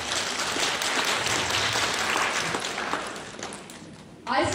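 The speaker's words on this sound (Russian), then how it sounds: "Вот, пожалуйста, похлопаем." An audience at a church Christmas gathering claps in a sustained round of applause that slowly fades, with a burst of noise returning at the very end.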